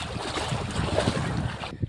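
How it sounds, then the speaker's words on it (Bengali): Wind rushes steadily across a wide flooded river as waves wash and lap continuously, with heavy wind buffeting the microphone throughout. "দেখুন সাগরের মতো ঢেউ আসছে, হালকা হালকা মৃদু সুরে বাতাস আসছে"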